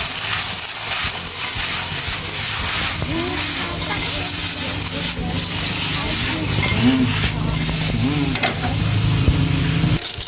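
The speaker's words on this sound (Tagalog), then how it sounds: "Ginisa na natin guys." Frog meat sautéing in a hot pan, a loud continuous hiss and sizzle close by with occasional stirring scrapes, while a person talks over it.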